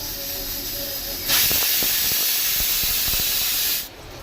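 A second batch of spiced corn dropped into hot oil, bursting into a loud, steady hiss and sizzle for a couple of seconds with crackling pops, then settling back to a quieter background.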